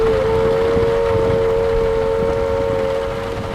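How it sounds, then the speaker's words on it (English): A steady, loud civil defense attack warning siren wails continuously on one sustained pitch, droning without pause over a low rumbling background. "A waving, undulating sound on the outdoor siren lasting 3 to 5 minutes"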